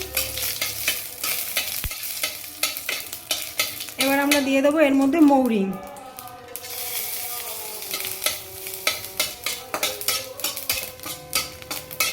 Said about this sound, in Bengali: এবার দিয়ে দেবো শুকনো লঙ্কা ফোড়ন